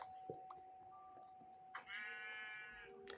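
A sheep in a video game bleats with a wavering, synthetic tone, over a steady electronic hum and a few soft clicks.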